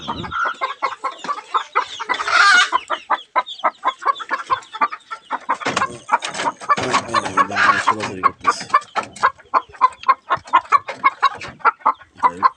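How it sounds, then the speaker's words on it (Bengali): Chickens cluck in quick repeated bursts nearby, a busy, uneven run of short calls with a few louder squawks, no talking over them. "ভিতরে কি একটা মুরগি আছে মনে"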